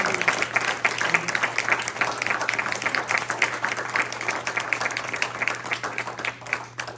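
An audience at a thank-you ceremony applauds, a dense, steady burst of many hands clapping together from a close, full room, sustained for several seconds with a constant low hum underneath.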